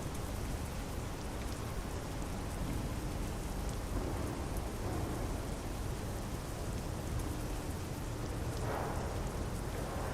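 Steady, dense rain in Euro Truck Simulator 2 at the Port of Piraeus, Athens, Greece, a continuous broadband hiss of drops on surfaces with a faint low rumble, unbroken and even throughout, with no voices.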